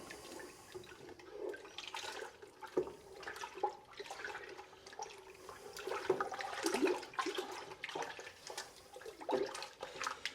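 Thick beef broth for birria consomé sloshes and swirls in a pot as it is stirred hard, a close, continuous wet churning with gloopy splashes and no talk.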